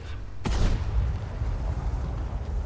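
A single heavy tank cannon blast from the ShPTK-TVP 100 in a video game, with a sharp attack, followed by a rumbling low decay and background engine noise.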